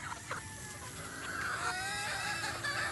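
Several chickens cluck and murmur nearby in a steady, overlapping chatter, with light outdoor background noise.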